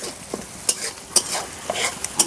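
Spiced masala for vegetarian paneer with potato sizzles in a wok after a splash of spice-rinse water, with a steady hiss broken by a few sharp scraping stir strokes spaced roughly half a second apart.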